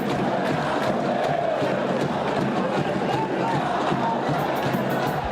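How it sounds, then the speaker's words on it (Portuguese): Football fans fill a stadium during a Santos versus São Paulo derby with constant loud crowd noise, a roaring mass of voices that has the sound of singing and chanting and never lets up. "a torcida voltou a cantar"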